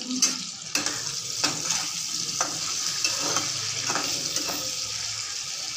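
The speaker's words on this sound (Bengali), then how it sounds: "আলুটা ভাজা হয়ে যাক তারপর ফুলকপিটা ভাজবো" Potatoes frying with turmeric in a pan while fish curry is being cooked, giving a steady close sizzle with repeated sharp stirring scrapes and knocks throughout.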